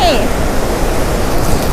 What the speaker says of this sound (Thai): เสียงน้ำตกอาจจะดังต้องขออภัยด้วยนะ